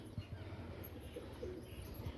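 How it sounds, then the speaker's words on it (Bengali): A pet Rajshahi pigeon coos softly at home, a faint, low, murmuring call repeated over a quiet room background. "খুব শখের পায়রা এটা, খুব শখের পায়রা।"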